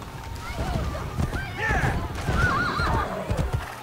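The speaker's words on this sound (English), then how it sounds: "See you later, horse." A horse whinnies loudly with rising and falling squeals over the rapid thud of galloping hooves, close by, with voices briefly mixed in, in the video game Assassin's Creed Brotherhood.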